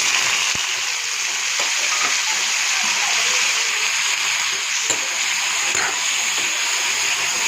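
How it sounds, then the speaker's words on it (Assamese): Eggplant frying in hot oil in a wok, a steady broadband sizzle and spattering that holds continuously and evenly throughout, close and fairly loud, with no voices over it. "আৰু এতিয়া মই বেঙেনাখিনি ভাজি ল'ম।"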